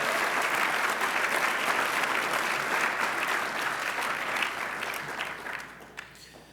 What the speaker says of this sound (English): Let's give Mamie, Sergio, and Ms. Brown another round of applause.